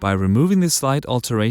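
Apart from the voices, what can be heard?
No everyday noise stands out behind the speech.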